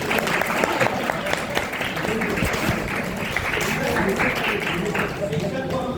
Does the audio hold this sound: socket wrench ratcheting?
no